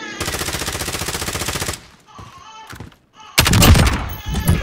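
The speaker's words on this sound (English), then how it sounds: "So a lot of bullets." Automatic gunfire in a first-person shooter video game, a loud close burst of rapid shots, a pause with scattered softer shots, then another heavy rattling burst.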